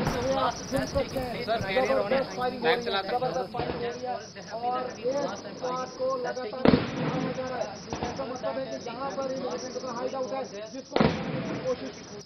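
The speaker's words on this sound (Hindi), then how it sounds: "गोलियों की तड़तड़ाहट साफ तौर पर सुनी जा सकती है।" Bursts of gunfire crack out during an army encounter with militants on a hillside in Anantnag, sharp reports breaking through continuous talk from a reporter at the scene.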